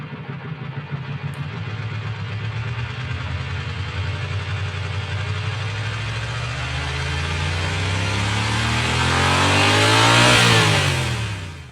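A car engine revving upward in a long, steady rise, its pitch climbing gradually and the sound growing louder before dropping away sharply near the end, recorded alone without voices.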